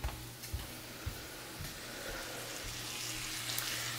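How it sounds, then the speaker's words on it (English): Steady crackling sizzle of bacon frying in a pan, with a few louder pops and clinks early on, close and moderately loud. "My bacon's sizzling really fast"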